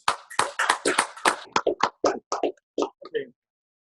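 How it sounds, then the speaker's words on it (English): Hand claps ring out at a Pittsburgh Bureau of Police graduation ceremony, a fast run of loud, separate slaps that grows sparser and thins out toward the end, with no talk over it. "Clap for yourself. Clap for one another."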